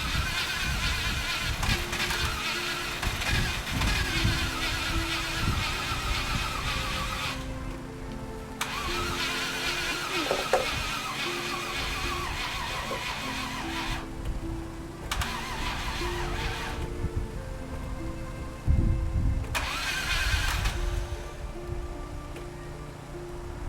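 Car engine cranking on its starter in steady rain, grinding in repeated bursts separated by short pauses before it finally catches and runs, loud and close throughout.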